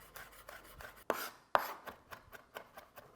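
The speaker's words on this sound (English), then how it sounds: "I'm going to use my knife and just break it down and go ahead and start mincing" A knife minces garlic on a cutting board for tacos, a quiet close run of quick chopping taps with two sharper heavy strikes partway through.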